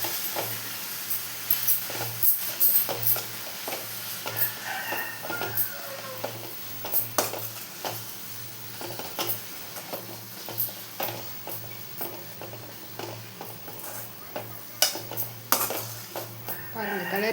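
Spatula stirring drumstick leaves and egg in a frying pan, steady scraping clinks over a soft sizzle, close and moderately quiet.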